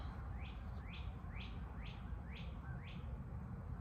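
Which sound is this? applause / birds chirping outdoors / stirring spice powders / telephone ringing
birds chirping outdoors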